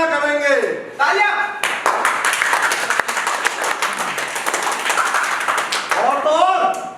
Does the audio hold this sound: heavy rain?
no